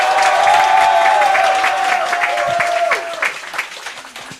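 Audience applause at a youth committee launch and appointment ceremony, a steady loud wash of clapping over a sustained musical tone that drops away near the end as the clapping thins.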